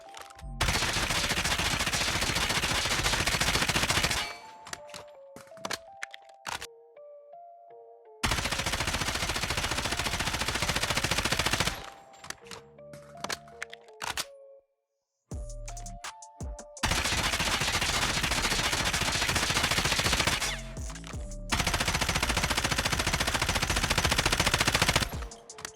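Sustained automatic fire from a RAM-7 rifle in a first-person shooter game, loud long bursts separated by short pauses and clicking reload or weapon-handling noises, four main sprays across the stretch.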